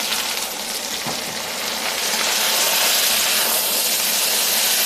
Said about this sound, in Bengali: এখন শাক দিয়ে দিব